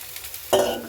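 Cabbage dropped into a hot pan to sauté for ginisang cabbage sets off a sudden loud sizzle halfway through, after near quiet.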